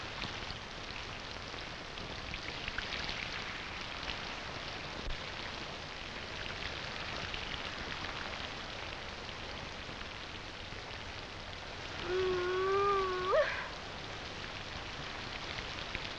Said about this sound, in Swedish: Det var fan vad det regnar.